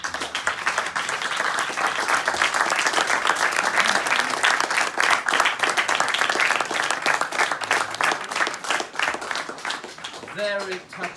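A Stockholm audience breaks into long, dense applause after a screening of the film Ithaca about Julian Assange. Many hands clap loudly and steadily, then thin out toward the end, where a voice briefly cuts in.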